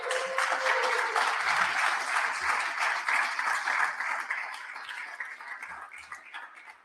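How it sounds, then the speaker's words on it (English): Audience at a health software conference gives a warm round of applause, a dense wash of clapping that holds steady and then gradually thins out and fades toward the end. "So a round of applause for you all."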